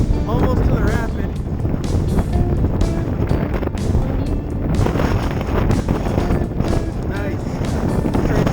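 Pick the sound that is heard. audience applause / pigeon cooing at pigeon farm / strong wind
strong wind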